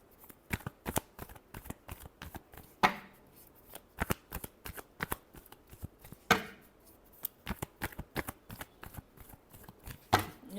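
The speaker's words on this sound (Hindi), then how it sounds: "Last shuffle." Tarot cards are shuffled by hand, making crisp riffles and sharp slaps in an uneven rhythm with a few louder bursts. The sound is close and clear, with no talking.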